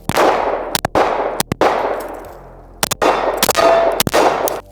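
10mm 180-grain rounds fired from a Vector at body armor: a rapid series of loud, sharp reports, each with a ringing metallic clang that decays before the next shots, in uneven clusters.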